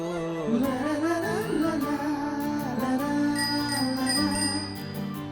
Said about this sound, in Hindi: मतलब कि साइकिल की घंटी चेक कर रही हूँ।